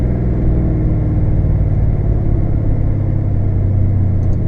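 A car fitted with a B&M Quicksilver ratchet shifter, its engine droning in a steady, loud low rumble while downshifting, with no clear shift clunk or rev change standing out.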